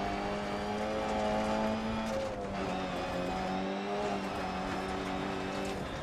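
A 1960s rally car in the DIRT Rally video game: a steady, loud engine drone holds one sustained pitch that slowly shifts as the car drives, with faint tire noise and no talk.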